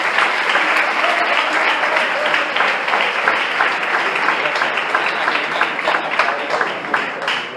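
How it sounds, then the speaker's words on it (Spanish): A church congregation gives a loud, sustained round of applause, dense and steady from start to finish, with no talk above it. "la iglesia de Cristo le da un fuerte aplauso al Señor"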